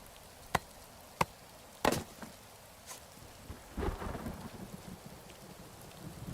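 Thunder and rain during a storm in the game Rising World: several sharp cracks sound in close succession, then a longer rumbling roll, all over a steady soft hiss of rainfall.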